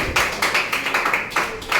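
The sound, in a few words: students clapping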